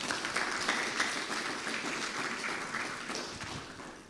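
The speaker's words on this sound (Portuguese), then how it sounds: "Você pode dar uma salva de palmas a Deus?" Congregation clapping in a church service after a prayer, a sustained wash of applause at moderate distance that gradually fades toward the end, with a few faint voices mixed in.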